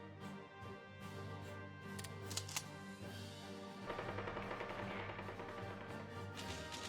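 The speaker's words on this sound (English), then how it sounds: "There's the shore bombardment." Naval shore bombardment in Hearts of Iron III plays as rapid, rattling bursts of gunfire over a steady musical background, loudest in a dense volley during the second half.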